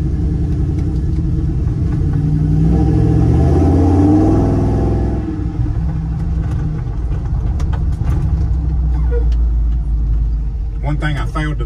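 A 1967 Ford F100 pickup with a Coyote V8 engine and independent rear suspension drives on the road, producing a loud, steady low rumble that swells briefly as it accelerates and then settles into a cruising drone with cabin noise.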